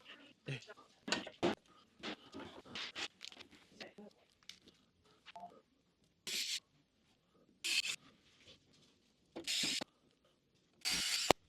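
Small screws are driven into parts of a Fanhome Batmobile scale model kit, giving close ratcheting and grinding bursts that start busy and then come as four separate short spells between quiet gaps.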